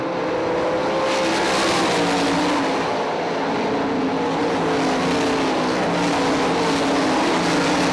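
Sprint cars roar around the dirt oval at I-96 Speedway, engines blaring loud and continuous as a pack battles for the lead, with no voices over the steady engine din.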